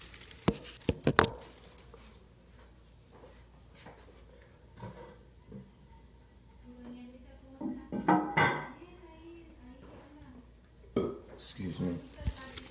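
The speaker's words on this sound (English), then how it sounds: "let's put the tank lid back on" A ceramic Kohler Kelston toilet tank lid from 2008 being set back in place, heard as a few sharp clinks and scraping knocks spread across the stretch with quieter handling in between, and someone speaking at times.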